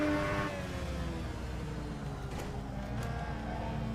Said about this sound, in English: it kind of sounds like I got a Hoover engine in the back, but this thing's a little lively